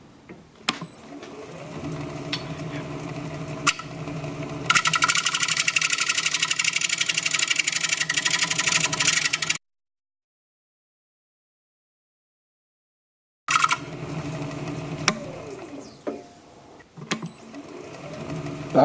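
A wood lathe spins a bowl on a plate while a 3/8 gouge cuts into a tight inside corner, giving a steady droning whir with a loud, hissing cutting stretch, then a sudden silence before the turning resumes.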